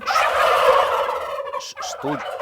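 Turkeys gobble loudly and close by at a poultry research station in Kharkiv region, a rapid rattling burst from several birds overlapping, then a short pause and another gobble.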